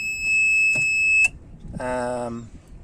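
A steady high-pitched electronic buzzer tone sounds for about a second and stops, followed by a short voice-like tonal sound.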